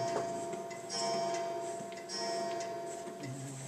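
Steady ticking of a clock in the Resident Evil 6 video game, a regular tick-tock rhythm running throughout over a low ambient game drone.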